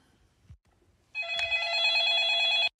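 A telephone rings with a bright, sustained electronic bell tone that starts abruptly after a moment of near silence and carries on steadily and loudly for more than a second before cutting off.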